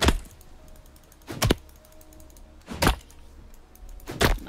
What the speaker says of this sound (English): Mouse clicking.